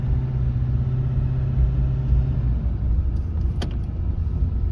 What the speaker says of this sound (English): I can downshift using the downshift button, and I can just roll down in a lower gear.